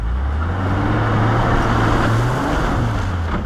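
A car speeds across very soft, muddy terrain on a Gran Sabana trail, its engine droning steadily and loudly with continuous rushing road noise and no talk.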